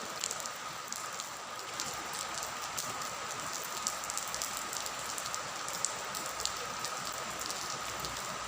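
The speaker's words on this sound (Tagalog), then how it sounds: "Umuulan dito, umuulan dyan." Steady rain falls throughout, a dense, even hiss of drops pattering on surfaces close by, with no voices and no letup.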